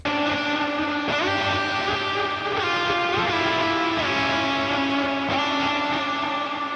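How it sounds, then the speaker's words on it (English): A post-rock electric guitar lead plays sustained, gliding notes through an amp rig with heavy reverb, plus a delay pedal before the amp. The smeared tones wash together continuously and loudly, with no talking. "And then we got a post-rock lead."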